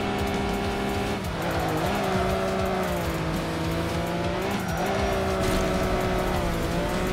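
Race cars roar through the ACE Racer video game, engines revving up and down continuously with tire squeals and skids as they corner, loud and close throughout.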